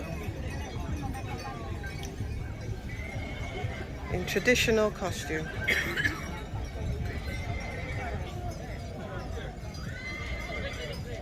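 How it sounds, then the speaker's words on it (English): A Hungarian half-blood horse, ridden bareback by a rider in traditional costume at a farmhouse in Solt, whinnies loudly once and clip-clops on the ground, amid steady outdoor crowd babble and nearby talk. "So it's a Hungarian half-blood horse"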